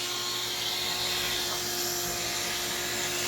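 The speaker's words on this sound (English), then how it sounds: "Turn on your wet dry vac" Wet dry vac sucking air through a hose from a sealed jug, a constant loud whining roar with a steady hum, unbroken throughout.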